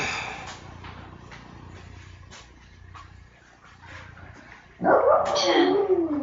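Indoors beside a turbo bike trainer, a low hum and scattered faint clicks run for several seconds before a dog suddenly lets out a loud, close, drawn-out whining bark that carries on to the end.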